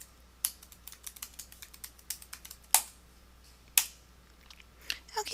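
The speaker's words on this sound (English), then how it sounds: "we're going to type in administrator after our domain name" Keys on a computer keyboard clatter in quick, uneven bursts as a web address and admin login are typed, with a few sharper clacks standing out, close and clear with no talk.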